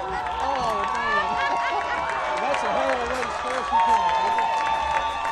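A crowd at an Earlham Quakers college football game reacts after a safety against Mt. St. Joseph. It is a steady roar of voices and scattered cheering, with a public-address announcer talking over it throughout.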